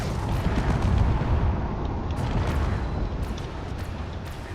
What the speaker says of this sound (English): Over here you can see missiles and railgun being exchanged